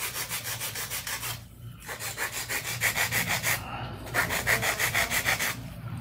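A hand file rasps back and forth on acrylic nails in quick, even strokes, loud and close, pausing briefly twice before resuming the steady rhythmic filing.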